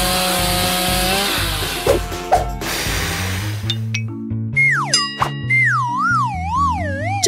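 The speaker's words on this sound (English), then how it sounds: "Exactly, a chainsaw." A chainsaw roars and grinds loudly, then gives way to bouncy, warbling cartoon-like tones and steady music, with no talking.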